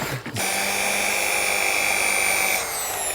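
Machine polisher fitted with a foam polishing pad working polish into the sun-faded roof of a Volkswagen Polo, giving a steady, loud, continuous whine that cuts out briefly near the start and then runs on unbroken.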